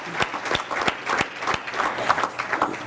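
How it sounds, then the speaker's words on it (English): An audience applauds at a justice summit conference, many hands clapping in a lively, uneven patter with sharper individual claps standing out, sustained at an even level. "I would like to give Barney another round of applause for putting this together"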